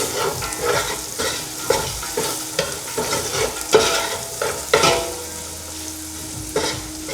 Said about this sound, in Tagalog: Then, sutayin natin siya ng 5 minutes.